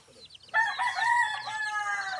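A rooster crows once, loud and close, a single drawn-out cock-a-doodle-doo over quiet background.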